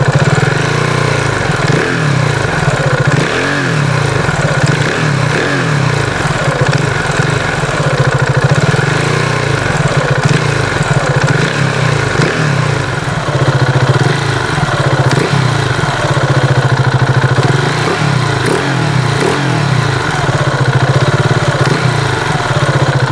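A KTM Duke 690 single-cylinder motorcycle fitted with a DNA airbox cover idles close by, a loud, steady, lumpy thump that carries on alone for the whole stretch.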